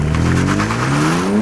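BMW M3 and Alpina D3, traction control off and left in drive, accelerating hard from a standstill, with engine notes climbing steadily in pitch and loud, close, without speech.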